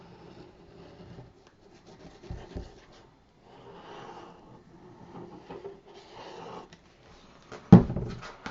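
Paper being burnished for a craft mini album: soft, intermittent rubbing strokes, quiet and close, with a couple of brief taps and a louder scrape near the end.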